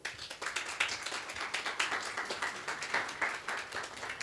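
Audience applause at a women's awards gala, a steady mix of many hands clapping at moderate loudness with some crisp individual claps standing out.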